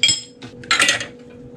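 A spoon stirs soy sauce and mirin in a small bowl, giving a couple of sharp clinks and a brief scraping rattle, close and alone.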